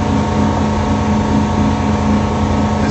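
A boat engine runs flat out at full throttle around 3,200 RPM, a steady, loud, unbroken drone on a cruising vessel troubled by a possible fuel problem and hull growth.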